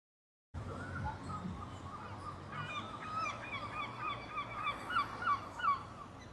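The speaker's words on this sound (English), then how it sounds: "There's always seagulls here" Seagulls calling at the D-Day landing craft slipways, a busy cluster of honking, yelping cries rising over outdoor wind and ambient noise, growing louder toward the end.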